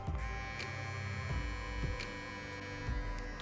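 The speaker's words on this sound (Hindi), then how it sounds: "वेगा का ये ट्रिमर की नॉइज सुनिए आप लोग।" A Vega P3 beard trimmer hums steadily and close by, a constant motor drone with faint brushing changes in tone, no voices.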